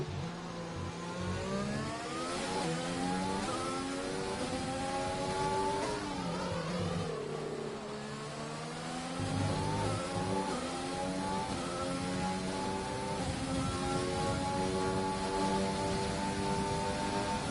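Formula 1 cars scream along in a racing video game at the Baku Grand Prix, one closing on the back of a Ferrari. Several high-pitched engines rise and fall in pitch through gear changes, layered and sustained throughout.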